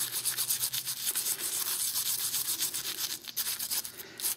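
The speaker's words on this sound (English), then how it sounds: "Just a wire brush." A wire brush scrubs dirt and gunk off Yamaha Grizzly ATV front brake parts, making steady, continuous rasping strokes up close, with no talking.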